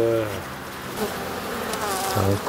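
A steady drone of black honeybees from an open hive, with individual bees flying by close and shifting in pitch against the constant buzzing of the colony.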